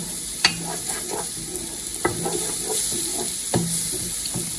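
Minced garlic sautés in a pan with a steady, close sizzle. A few sharp scrapes and taps from stirring break through at intervals.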